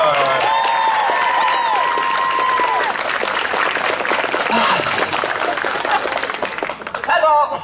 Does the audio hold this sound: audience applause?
yes